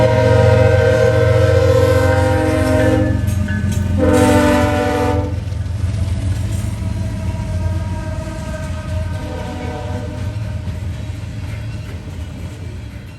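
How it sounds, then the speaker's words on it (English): A Norfolk Southern coal train of Progress Energy hoppers led by NS 81014 Heritage Unit rumbles past loudly and close, its horn sounding in long sustained blasts before the heavy rolling roar of the cars continues alone. "The NS 81014 Original Heritage Unit leading the charge south."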